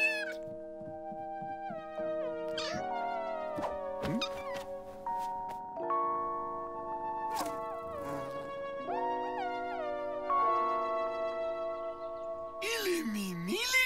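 A cartoon kitten meows repeatedly in short high, sliding cries, close and clear, with musical tones and brief sound effects around them.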